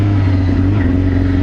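Loud, steady drone of a track motorbike engine running close by, a constant low-pitched idle with no lights or road equipment fitted.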